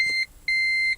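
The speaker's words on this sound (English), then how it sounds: "We've got no safety belt on, so it's beeping" A Toyota Prius seatbelt warning: two short electronic beeps in quick succession, a bright, clean chime repeating with a brief gap between them.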